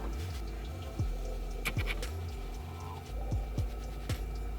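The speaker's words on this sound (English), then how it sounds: "So just gonna dip it in the water." A makeup brush is dipped and swished in a small container of water, with faint close splashes, drips and light knocks over a low background hum.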